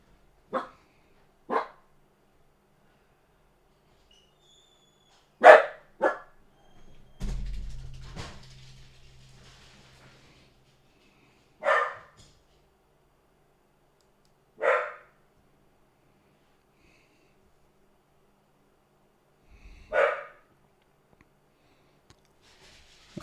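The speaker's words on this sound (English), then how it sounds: "he's barking at everything today." A dog barks in single sharp, spaced-out barks, nearby and loud against quiet surroundings, with a brief low rumble in between.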